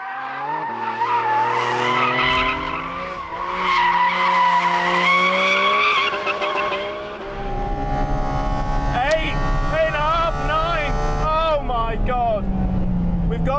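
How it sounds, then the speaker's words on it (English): A 2022 Porsche 718 Cayman GT4 RS on track, its high-revving engine loud and close with a wailing intake note climbing and dropping through gear changes, and a voice talking over it. "We're now going to drive it on track, not that quickly, but it will give you more experience of that incredible engine"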